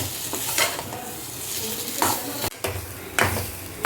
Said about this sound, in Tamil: இப்போ வறுத்ததை அப்படியே பரட்டி எடுத்துடலாம்